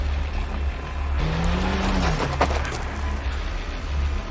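A steady car engine rumbles nearby, with a low hum throughout and a brief rising whine midway.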